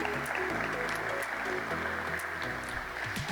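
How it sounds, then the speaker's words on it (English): A conference audience gives a sustained, even round of applause that fills the room for a few seconds, with faint tonal music or voices underneath. "Could we give them a round of applause on behalf of all of us?"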